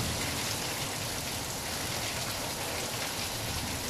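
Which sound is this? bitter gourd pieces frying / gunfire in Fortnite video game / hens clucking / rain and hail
rain and hail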